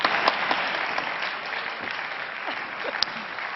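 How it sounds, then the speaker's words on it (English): Delegates at the EPP Congress 2022 giving warm applause in a large hall, steady continuous clapping of moderate loudness with a few distinct sharp claps, and faint voices underneath. "Give her a warm applause."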